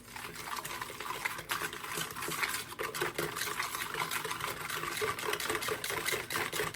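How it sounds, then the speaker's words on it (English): A whisk beats a glaze of equal parts ketchup and brown sugar in a bowl, making rapid, continuous scraping and tapping strokes at close range, with no voices. "We'll whisk it up together."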